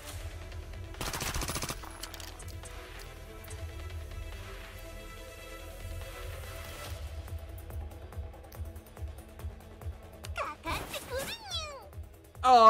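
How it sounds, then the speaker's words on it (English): Turrets firing at enemies in the tactical video game Reverse Collapse: Codename Bakery Girl, with rapid mechanical bursts of automatic fire pulsing in a steady rhythm, growing louder toward the end, with short game sound effects and a character's voice chirping between them. "These turrets need to just start poking these boys."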